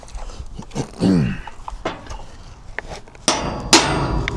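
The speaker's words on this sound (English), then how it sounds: "Try to hammer that in." A hammer knocks a part into place during a trailer repair, with several sharp metallic strikes and ringing clangs, irregularly spaced and close by.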